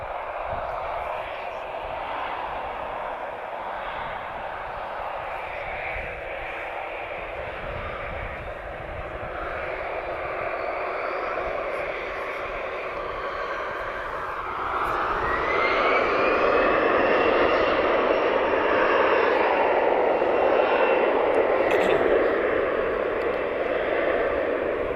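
Airbus airliner in SkyTeam livery departing Lisbon Airport for Paris Charles de Gaulle, a steady roaring engine drone that swells louder and rises in pitch midway as thrust builds, with someone talking faintly underneath.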